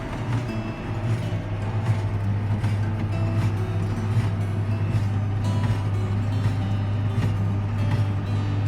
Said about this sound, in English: Don't you all wish you were driving a baling tractor at 4 o'clock in the morning?